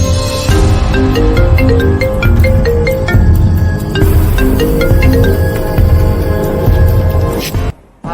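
A loud electronic phone ringtone plays a repeating melodic pattern of bright tones, then stops abruptly near the end.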